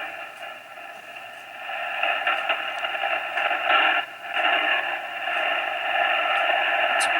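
Steady radio receiver static hissing through an antenna tuner on a ham setup, a broad continuous noise that swells slightly louder partway through and holds alone without talk.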